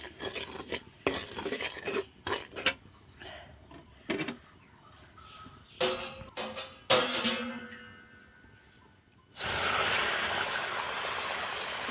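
Utensils clink and scrape as a simple home-cooked dish fries in a pan, then water is poured in and sets off a sudden loud, sustained hissing sizzle that carries on to the end.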